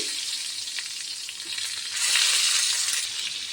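Stuffed brinjals sizzle steadily in hot oil in a pan, a dense bright hiss that swells louder partway through, close and with no talking.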